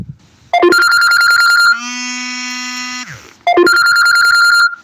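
A telephone ringing at close range in two loud bursts of repeated bell-like trills, separated by a steadier electronic tone, during a live stream about burning wood outdoors.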